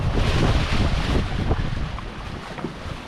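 Light wind, around 6 knots, while a boat sails under spinnaker: continuous low rumbling wind buffeting over the microphone with faint water wash beneath, steady and close, no voices.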